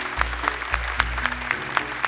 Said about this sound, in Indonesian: Boleh tepuk tangan untuk Husnul dan Zuhra